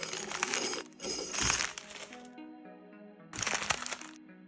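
Layered crunching and cracking impacts with ringing, shimmering tones, two bursts separated by a brief lull, loud and close.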